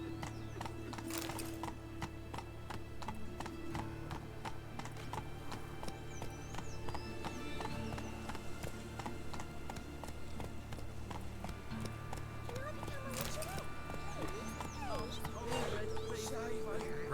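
Hoofbeats of Roach, the horse in The Witcher 3: Wild Hunt, galloping in a steady clip-clop rhythm over a continuous game soundscape, with speech present in the background.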